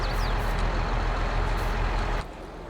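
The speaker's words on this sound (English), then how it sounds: "Oh, come on, I hate traffic." Road traffic in the Farming Simulator 22 video game: a loud, close truck or bus engine rumble with some hiss, cutting off abruptly near the end.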